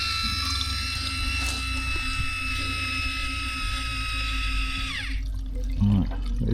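Waste water drains from a leaking motorhome tank at a campsite, a steady close trickle with a high tonal ringing that cuts off sharply near the end, followed by faint dripping.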